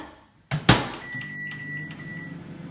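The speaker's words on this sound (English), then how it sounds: "So that is going to go in the microwave" A door thumps shut, then a microwave oven hums steadily with a faint high tone running through its drone, no talking.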